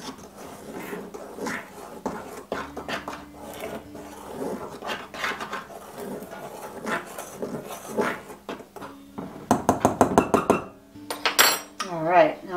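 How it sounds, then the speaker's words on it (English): A spoon quickly stirring a mix with cloves in a bowl for old-fashioned oatmeal raisin cookies: rapid metallic clinks and scrapes close up, building to a dense burst of clatter near the end, with no talking. "I'll just give these a quick little stir."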